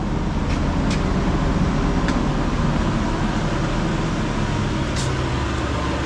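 Nissan Gloria engine idling steadily during a test drive, a constant low rumble and broadband hum filling the clip with a few faint ticks above it.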